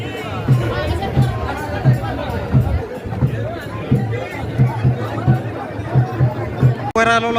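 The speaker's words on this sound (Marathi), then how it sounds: "खूप गर्दी आहे मित्रांनो, बघू शकता." A dense crowd at the Kalbhairavnath temple fair during a palanquin procession, with continuous chatter and babble close by and rhythmic low thumps running through it.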